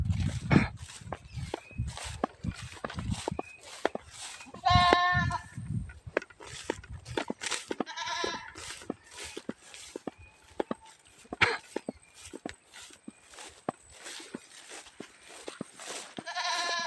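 Goats bleat repeatedly outdoors in shade, several loud nearby cries scattered among scuffling hooves and steps, with occasional clicks and brief talk.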